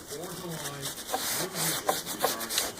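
A rag rubbing a black rubber Corvette weatherstrip during cleaning with soap, close, dry scrubbing strokes repeating in quick bursts with a few sharper squeaks.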